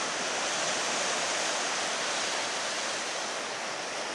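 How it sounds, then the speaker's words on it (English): Ocean waves roll in along the Cabot Trail coast as a steady, broad wash of surf noise heard from a distance, constant and alone. "Tad bit of waves coming in down there."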